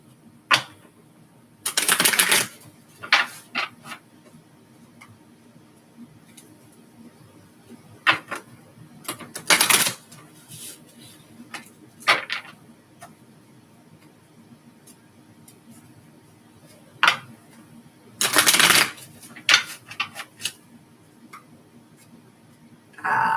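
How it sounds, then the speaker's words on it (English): A tarot card deck is shuffled in short, irregular bursts of papery riffling and tapping, several loud clusters spaced apart with quieter handling noises in between, with no talk. "when there's excessive shuffling, it's the reader trying to pick up your vibe"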